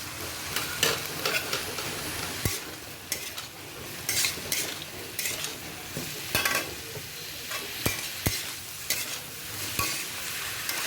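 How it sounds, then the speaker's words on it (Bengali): Ridge gourd and yardlong beans, with potatoes to be added, stir-fry in a pan over a steady sizzle, with scraping stirs and occasional sharp clinks of a utensil against the pan throughout. "ঝিঙে আর বরবটি দিচ্ছি, আলু মিশাবো এতে"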